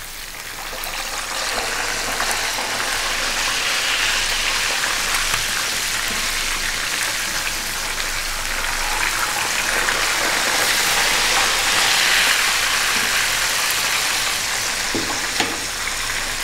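Tilapia fillets frying crisp in hot oil in a pan, a loud, dense, continuous sizzle and crackle like heavy rain that swells slightly midway, with no one speaking.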